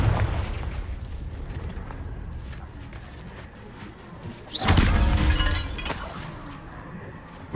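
A Confringo blasting spell in Hogwarts Legacy hits with a sudden loud crack and booming burst midway, with glassy shattering debris trailing off after a quieter stretch of ambient rumble and faint effects.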